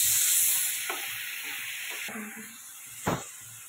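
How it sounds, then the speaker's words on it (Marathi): Onion and tomato sautéing in oil, a steady bright sizzle with occasional stirring scrapes and a louder knock near the end, close up, with no one talking. "आता त्यामध्ये हे चांगला कांदा आणि टोमॅटो तेल सुटेपर्यंत परतून घ्यायचे"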